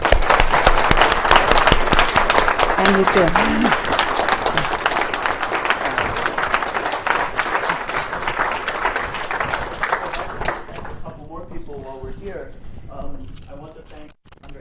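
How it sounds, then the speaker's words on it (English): Audience applause at a physics lecture on F-theory, a dense sustained clapping that fills most of the recording and thins out near the end, with a voice speaking over it. "So I think they really deserve a special applause and thanks."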